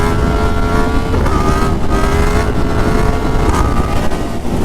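A motorcycle revs hard in second gear to lift into a wheelie, its engine a loud, close, continuous drone that climbs gradually in pitch with brief shifts in tone.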